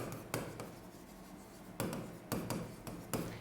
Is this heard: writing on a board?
yes